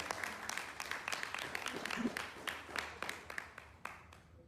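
Audience at a poetry evening applauding the poet Seema Nayan, a faint, sparse scattering of claps from a modest crowd, fairly distant and low in level.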